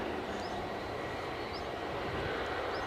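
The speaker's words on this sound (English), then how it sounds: "Right, next plane just crossing the coast with the EasyJet. Inbound from Krakow, we have an A320 Neo" An EasyJet Airbus A320neo airliner arrives inbound from Krakow toward Edinburgh airport, a steady distant engine rumble lasting throughout, with a few faint chirps above it.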